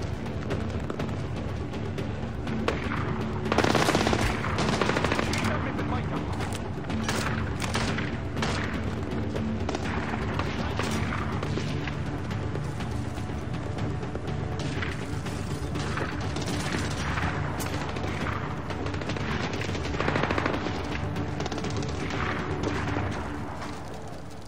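Gunfire and explosions in the stealth shooter Tom Clancy's Splinter Cell: Blacklist, with dense bursts of shots, booms and clattering impacts running continuously at high volume across the whole stretch.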